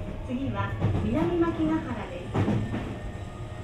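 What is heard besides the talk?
Sotetsu 20000 series train running, Hitachi SiC-VVVF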